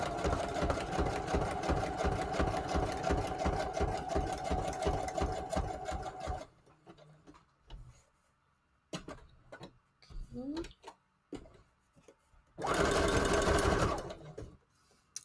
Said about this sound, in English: Just using a zigzag stitch on standard mode.